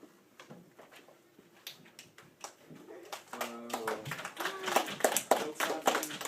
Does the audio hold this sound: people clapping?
yes